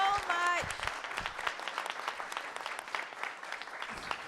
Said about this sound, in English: I just want one last round of applause from all of our amazing panelists.